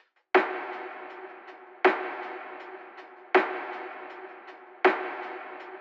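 Filtered break drums with a thin, band-limited radio-style tone: four evenly spaced heavy hits about every one and a half seconds, each with a long decaying tail, alone.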